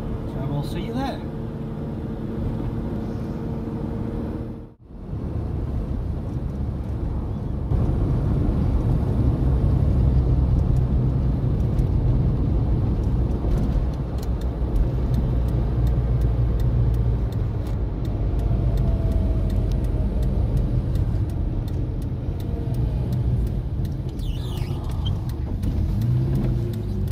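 Car driving along a road with a full load of passengers, en route to a cars and coffee meet at Abakhan; a steady low engine and road rumble with wind noise, continuous and fairly loud, briefly dipping near the start.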